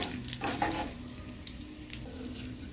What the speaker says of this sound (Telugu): జీలకర్ర ఆవాలు వేసుకోవాలి రెండు మిర్చీలు వేసుకోవాలి